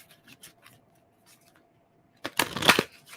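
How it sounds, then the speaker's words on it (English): Oracle cards are shuffled close by in one loud, papery riffle lasting under a second, after a few faint taps and near silence. "when you're shuffling cards and cards just fly out like that"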